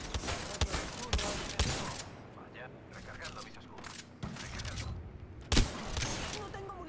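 Gunfire in the video game Apex Legends: scattered sharp shots and bursts at irregular intervals, some close and punchy, others quieter, mixed with game clatter while players talk.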